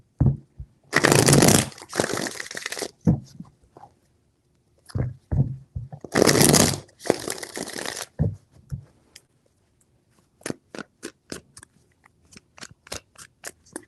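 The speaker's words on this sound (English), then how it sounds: "Three shuffles." Cards are shuffled in two long riffling bursts, followed by a run of short, crisp card snaps and taps, close and clear with no talking.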